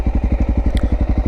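A motorcycle engine idling in first gear, loud and close, with a steady rapid thumping pulse throughout.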